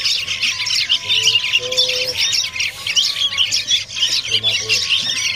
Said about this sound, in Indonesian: Oke, di sini melimpah ya burung lolohan. Ini lolohan terucuk dan lolohan kutilang ya.